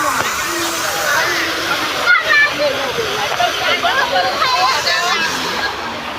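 A fountain splashing in Kolkata's Eco Park, a continuous close rush of falling water with people talking over it and crowd babble in the background.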